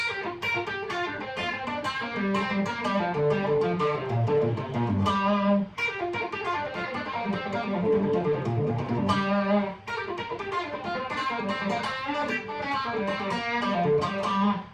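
A guitar plays a fast, continuous descending thirds scale sequence with hybrid picking, stepping downward in repeating patterns, steady and close throughout with no talking.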